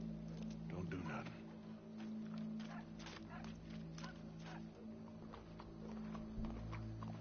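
Horse hooves clip-clop at a walking pace in the Red Dead video game, steady and fairly close, under people talking and other game ambience.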